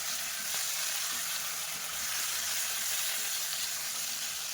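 Stuffed capsicums sizzle and fry steadily in hot oil in a pan as they are gently stirred, a close, continuous crackling hiss with no talk.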